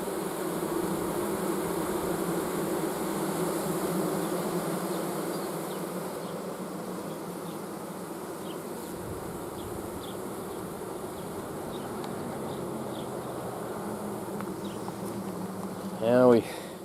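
Honey bees buzz steadily around a hive, a dense continuous drone of many insects close by, with a brief louder burst near the end.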